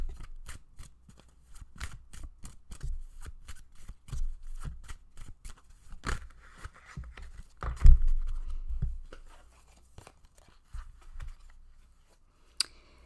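Tarot cards are shuffled and handled up close in a quick run of crisp riffling taps and snaps, with a denser, louder burst midway before the handling thins out.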